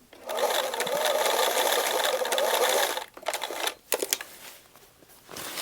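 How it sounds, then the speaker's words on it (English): A sewing machine stitching a wide, tight zigzag in matching thread over a patch, a steady loud whirring run for about three seconds, then short stop-start bursts and clicks. "I'm going to do a very wide and tight zigzag over it with matching thread as much as I can so that it's not seen"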